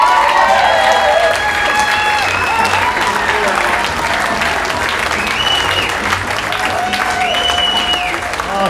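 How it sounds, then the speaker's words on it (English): A comedy club audience applauds steadily as a comic is brought on stage, with dense clapping and some cheering sustained loud throughout, with brief indistinct voices mixed in. "big round of applause for Cliff Hornsby."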